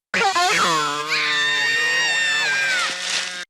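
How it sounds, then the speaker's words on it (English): A boy in a film scene screams in fright at discovering a wrinkled, big-headed alien, one loud sustained high-pitched shriek lasting about three seconds, close and alone. "lets out a scream before running away as fast as he can"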